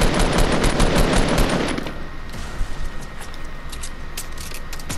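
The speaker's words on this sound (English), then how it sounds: "They're shooting from below." Automatic gunfire in a squad-match shooter video game: a loud, continuous rattling burst that fades into scattered, more distant shots and crackles.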